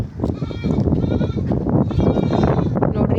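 A cow calf at a village home bleats repeatedly and loudly, close by, its calls layered over dense farmyard noise with some talking.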